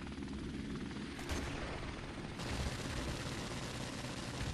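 A helicopter in Call of Duty 4: Modern Warfare Remastered throbs steadily and loudly throughout, its rotor roar mixed with bursts of gunfire in the game's firefight.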